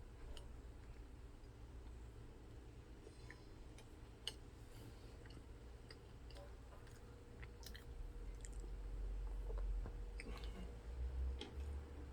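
Close-up crunching and chewing of a crispy fried pastry with a jam filling, a steady stream of small crackly bites with no talking over it.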